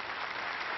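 Steady applause from members of the British parliament for a speech by Obama, a thick unbroken wash of clapping heard up close.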